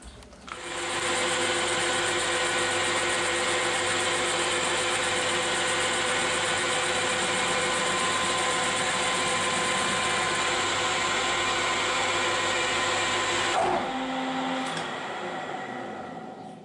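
A metal lathe turns a cut 1 mm deep, giving a loud steady whine with a constant motor hum for most of the time. Near the end it stops abruptly with a brief clunk and spin-down.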